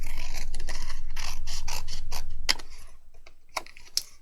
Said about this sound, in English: grab yourself some long handled scissors, and we are going to trim off all of the tabs